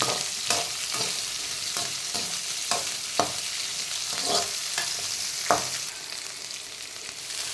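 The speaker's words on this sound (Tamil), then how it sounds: "வெங்காயத்தை நல்லா வதக்கிடலாம்" Onions being sautéed in a pan for a potato masala, with a steady close sizzle and repeated scraping stirs at an uneven rhythm, no voices.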